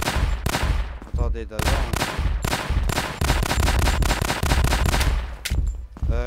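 Rapid bursts of gunfire from a zombie shooter game, Gynophobia, crackling loud and close in quick volleys with short gaps, a voice speaking briefly over the shots.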